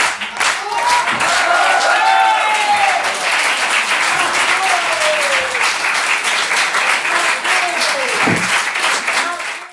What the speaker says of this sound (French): Ça fait un grand plaisir d'entendre les applaudissements, les remerciements du public